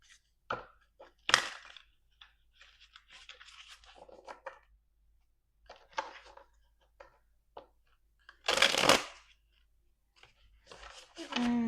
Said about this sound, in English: Yeah, one last shuffle.